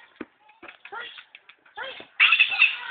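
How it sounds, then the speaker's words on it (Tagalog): A cat meows a few times amid nearby chatter, followed by a burst of loud, bright noise toward the end. "Ay, pusa."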